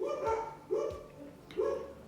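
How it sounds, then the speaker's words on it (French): Several dogs barking in a house during a makeup tutorial: three loud, spaced woofs, each a short sharp burst, close by with no talk over them. "si vous avez oublié que j'ai des chiens, voilà le bruit pour vous"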